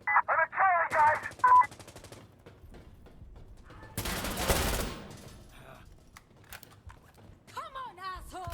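Rapid bursts of automatic gunfire and scattered shots ring out in the Insurgency Sandstorm shooter, mixed with clicks and clatter, while voices talk over the action.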